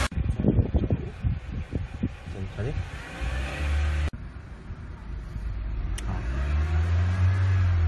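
A car engine is held at about 2000 rpm during a 6859U smart charger test. A steady mid engine drone runs under rustling handling noise, with a brief dip near four seconds before the hum settles and grows slightly louder.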